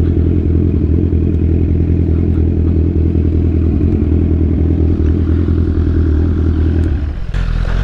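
A motorcycle engine runs steadily with a deep, loud rumble and mechanical clatter, then cuts off abruptly near the end.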